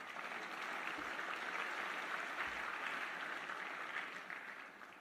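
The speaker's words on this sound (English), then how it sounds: "that's worthy of applause" An audience at the National Football Foundation awards dinner applauds in a sustained, dense patter of clapping from across a large room, fairly faint and steady, tapering slightly at the end.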